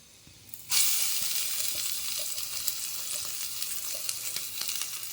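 Ground bottle gourd peel chutney hits hot oil tempering with a sudden loud sizzle, then a continuous frying hiss with small pops and faint stirring, no voices.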